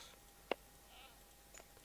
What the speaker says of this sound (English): Can you hear the goat?